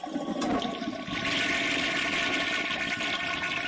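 Toilet flushing aboard a Cessna Citation CJ3+ in Microsoft Flight Simulator 2024, with a sharp onset and then a steady, loud rushing swirl of water lasting a few seconds, close and alone.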